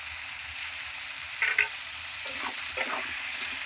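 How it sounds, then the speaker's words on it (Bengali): Potatoes frying in a pan with salt, turmeric and green chillies, giving a steady hiss of sizzling oil with a few brief stirring scrapes in the middle. "এবার আলুটা আমি ভালো করে ভেজে নেবো লাল লাল করে"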